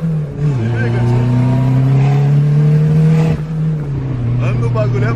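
A car engine revs hard and holds a steady high drone, rising and dipping slightly, loud and close throughout, with brief voices over it.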